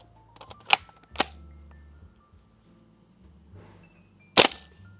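A G&G gas airsoft gun firing through a chronograph: three sharp, loud, close cracks, two in quick succession and a third after a pause of several seconds, with quiet handling noise in between.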